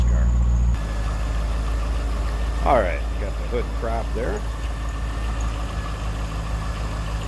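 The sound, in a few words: 2003 Corvette 5.7 liter LS1 V8 engine idling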